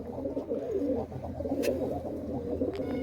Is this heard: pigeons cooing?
yes